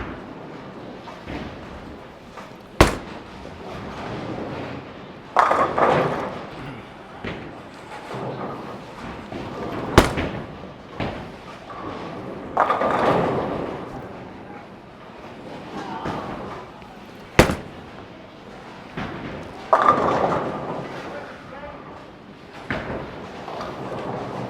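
A solid symmetrical Hammer Infamous bowling ball rolls down the lane and crashes into pins several times over, each throw a rolling rumble ending in a clattering pin strike, with quieter lane ambience and brief sharp knocks between shots.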